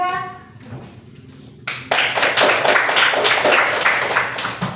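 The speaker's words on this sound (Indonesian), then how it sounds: "kita beri tepuk tangan dulu untuk kelompok 3" Classroom applause for a student group, starting abruptly after a quiet moment and continuing as a dense, lively burst of many hands clapping close by.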